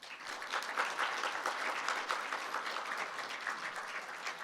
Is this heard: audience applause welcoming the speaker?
yes